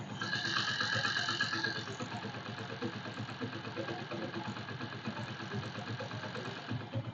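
Motorcycle engine with an abnormal noise from the clutch-side area, running with a steady, rapid knocking rattle over a low idle hum, close by, with a brighter whine in the first two seconds.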